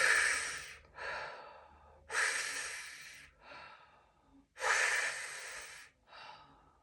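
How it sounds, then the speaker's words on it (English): Three sharp mouth inhales followed by a long exhale, repeated twice, as part of an energizing breathwork routine; the breaths are close, loud and rhythmic with short pauses between them. "3 activating inhales followed by 1 exhale to energize"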